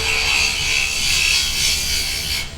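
A bowl gouge cuts wood on a lathe spinning at around 1,800 to 2,000 rpm while a small box is turned: a loud, steady, hissing scrape that runs without break and eases off at the very end.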